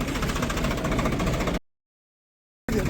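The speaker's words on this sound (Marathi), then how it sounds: "ट्रॅक्टर आहे घेऊन" A tractor engine chugs nearby with a steady, rough knocking rhythm. The sound cuts out abruptly for about a second and then comes back.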